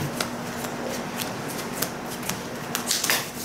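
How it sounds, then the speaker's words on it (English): A deck of Magic cards is shuffled by hand in close, crisp riffles, a run of quick papery snaps and flutters that grows busier toward the end. "Oh, we've quite a shuffle to go."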